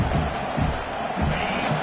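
Roaring stadium crowd in an NCAA college football video game, a dense, loud, continuous wash of cheering with no break across the stretch.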